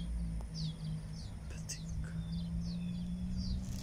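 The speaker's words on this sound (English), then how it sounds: "Can you hear the birds?" Small birds chirp and tweet in short bright bursts outdoors, fairly faint and spread across the clip, over a steady low hum of passing traffic, with someone talking quietly at times.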